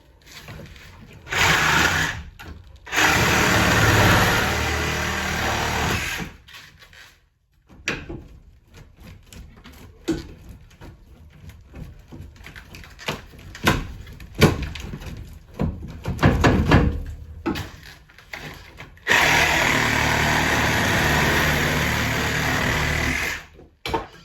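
A DeWalt XR brushless saw cuts through old copper and galvanized pipe, whining loudly in long sustained bursts with quieter stretches of handling clatter and scraping between cuts.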